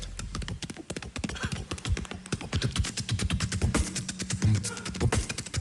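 A voice imitates a horse's clip-clop in a jazzy style. Rapid, tightly rhythmic tongue clicks run continuously and close-up, with a faint sustained tone underneath.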